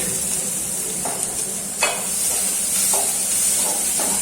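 Chopped onions with cinnamon, cloves and star anise frying in oil in a pan, a steady broadband sizzle with a few soft stirring scrapes, close and alone.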